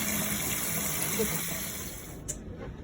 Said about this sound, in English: So I'm gonna go ahead and wash these up for you guys